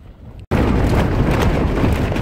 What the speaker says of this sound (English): it's now got extremely windy